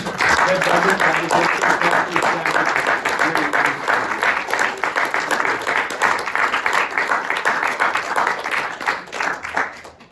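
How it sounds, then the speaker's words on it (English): An audience at a literary reading applauds the evening's readers, steady full clapping from a sizable crowd that holds strong and tapers slightly at the end. "Let's have one last round of applause for all of tonight's readers."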